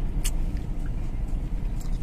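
A premium taxi driving through Davao, its steady low engine and road rumble continuous and close throughout, with no talk.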